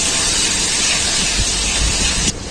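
Steady broadband sizzling hiss of potatoes frying in a pan, loud and close, that cuts off abruptly near the end.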